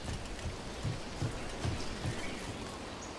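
Rain falls steadily in the video game Dragon Age: The Veilguard, a soft, even hiss of drops on surfaces with faint low thuds, heard alone without speech.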